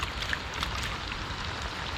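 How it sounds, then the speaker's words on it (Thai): Rain begins to fall at an outdoor fishing spot where hooked lines are being pulled in, a steady close hiss of drops spread evenly through the clip with no voices. "ฝนมาแล้ว ไปเก็บเบ็ดเหนือก่อนเนอะ"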